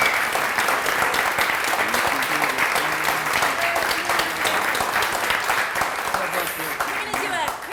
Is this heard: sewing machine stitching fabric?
no